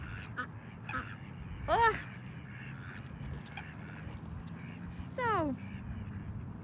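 Ducks at an outdoor pond give two short, loud quacking calls against a soft ambient background, with brief human speech in between.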